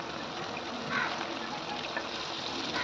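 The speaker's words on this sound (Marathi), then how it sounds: "थोडंसं मिक्सरचं भांडं त्यामध्येही पाणी घालून तेही याच्यामध्ये धुवून घ्या" Water rinsed out of a mixer jar pours into a cooking pan, a continuous close, even rushing stream with a slight surge partway through.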